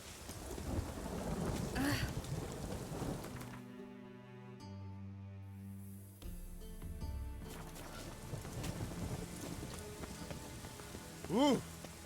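Steady rain patters with low rumbles of thunder in The Witcher 3, briefly giving way to musical tones midway before the downpour returns; a voice speaks over it.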